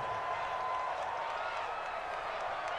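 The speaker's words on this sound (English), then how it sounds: "The crowd here in the Dome making things difficult." A loud stadium crowd roars in a dome during a football game, a steady dense wash of cheering and noise from many people without a break.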